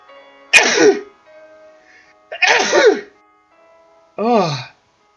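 Three loud, close sneezes, each a sharp burst with short pauses in between. The last one is shorter and more voiced, and quiet background hum sits in the gaps.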